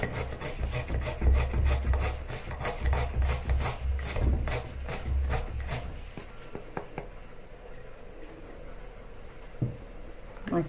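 Raw pumpkin is rubbed against a hand grater for a salad, giving rhythmic scraping strokes that repeat quickly and close up, then thin out into faint scattered scrapes and small knocks.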